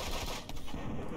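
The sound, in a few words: sniper rifle shot in a video game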